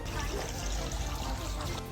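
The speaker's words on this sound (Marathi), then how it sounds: "आत येताच पाण्याचा खळखळता आवाज" Water babbles and flows steadily inside a London garden centre, a continuous close splashing trickle that runs unbroken for the whole moment, with no one speaking.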